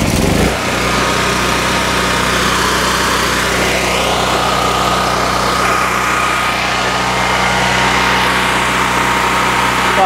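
A Firman dual fuel portable generator, 5700 or 8000 watt model, runs on propane after a pull start, settling into a steady, fairly loud engine drone close by with no talking.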